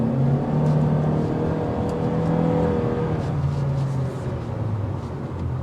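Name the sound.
2023 Honda Civic accelerating in Sport mode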